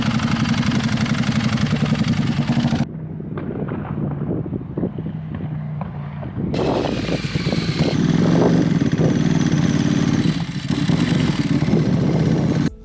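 A restored barn-find Ducati 1098 motorcycle engine runs on a test ride with a loud, steady drone, drops briefly to a lower rumble, then rises again to a strong, continuous roar.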